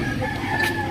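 A brief chicken call rises over a steady outdoor background, a short clucking cry lasting under a second.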